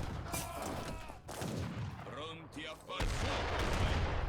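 Royal Guard mortars and cannons fire in a strategy game, with a dense string of booms and blasts layered over battle noise and what sounds like voices, growing heavier toward the end.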